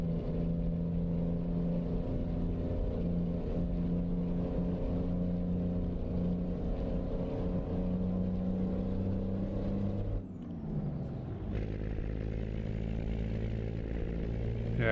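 A modded engine sound in a driving video game: a steady, loud harmonic drone that drops and shifts abruptly near the end, as if the car changes gear or slows, then settles into a new, smoother tone.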